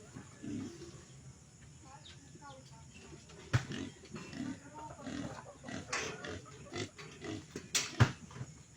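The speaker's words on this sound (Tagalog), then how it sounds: "Ayan, isa na lang yung baboy." A pig grunts on a rural farm in the Philippine provinces, with low snorting grunts recurring through the clip amid other farm sounds and people talking.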